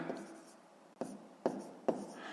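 Pen writing by hand on paper for a maths exercise, a soft scratchy stroke followed by three quick tapping strokes, close and quiet.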